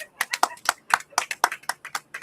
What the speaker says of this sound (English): give it up for Puff the Magic Dragon